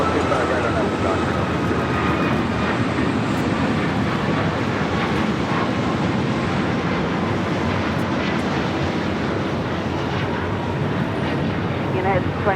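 An airliner takes off from runway 25 right at LAX, a steady broad engine roar holding loud and constant throughout, with radio voices from air traffic control heard faintly in the mix.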